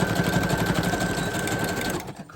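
A sewing machine stitching a small paper tab for an autumn junk journal, a loud close rapid whirring chatter that runs steadily and then stops abruptly near the end.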